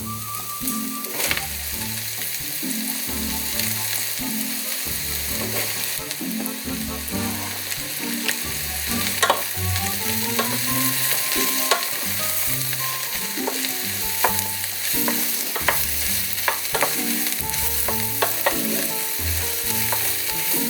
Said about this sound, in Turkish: Şimdi biraz daha zeytinyağı ekliyorum ve mantarlarımı içeri alıyorum.